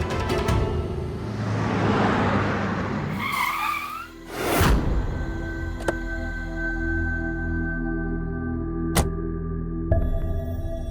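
A car brakes to a stop in a drama scene: road rumble gives way to a short tyre squeal and a thud, then a low engine idle continues, with a couple of sharp clicks and no speech.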